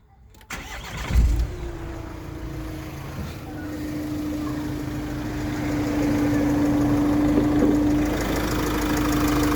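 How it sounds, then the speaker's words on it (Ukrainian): A 2017 Renault Master 3 2.3 dCi diesel van engine cranks and catches, then settles into a steady, even idle with a low hum, close and continuous. "Заведемо автомобіль. Моторчик тут працює як годинничок."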